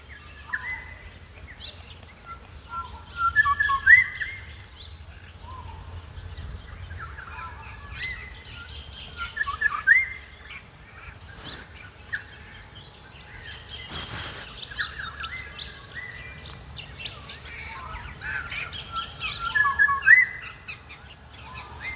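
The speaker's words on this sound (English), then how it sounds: "such a little small bird can make such a beautiful big sound" Small bird chirping in short bursts every few seconds, fairly faint and distant against a low outdoor rumble, with pauses between phrases, in the countryside at Nyngan, New South Wales.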